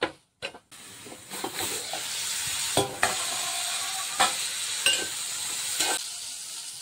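Tomatoes and salt being stirred into frying chutney, with a bright sustained sizzle and hiss broken by several sharp utensil scrapes and knocks against the pan.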